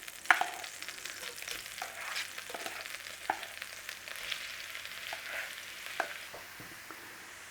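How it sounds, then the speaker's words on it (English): Vegetables sautéing in butter over a flame in a pan, a low steady sizzle with scattered stirring clicks and scrapes, close and fairly quiet, no talking. "And we're going to start to saute it down."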